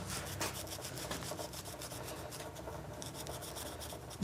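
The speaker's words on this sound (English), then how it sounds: "Hit them with some Scotch-Brite and just make sure you get all this carbon off the inside there." A Scotch-Brite pad scrubs carbon off parts from a 1928 Briggs Model FH engine, giving a continuous close, rapid abrasive rubbing with a fast back-and-forth rhythm and no talking.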